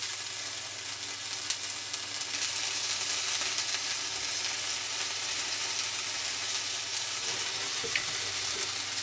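A folded egg omelette sizzles steadily in a frying pan, a soft continuous hiss throughout with occasional faint pops and no talking.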